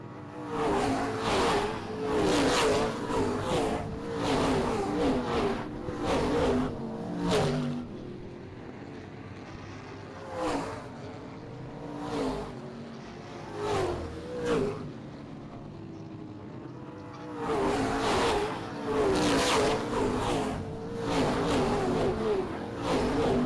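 Race cars at Springport Motor Speedway sweep past in repeated waves of loud engine roar that rise and fade one after another, with a quieter stretch in the middle before another close group passes.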